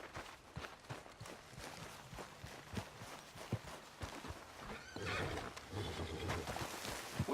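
A horse neighs and whinnies in Red Dead Redemption 2 over a steady clatter of hooves on the ground. The whinny is prominent and the footfalls are moderately close, with no speech.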